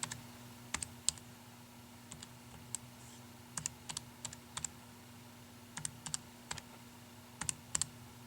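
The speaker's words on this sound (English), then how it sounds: "I'm going to type in this function." Close computer keyboard typing of a math function into graphing software, irregular light key clicks in short clusters over a low steady hum, no voices.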